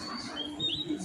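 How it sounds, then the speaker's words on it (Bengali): Birds give a few brief, thin chirps, faint and somewhat distant, over a quiet background in a very short moment. "পাখিদের কিচিরমিচির আওয়াজ ভালোই লাগে শুনতে।"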